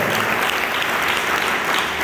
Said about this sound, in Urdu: ان کے لیے زوردار تالیاں ہو جائیں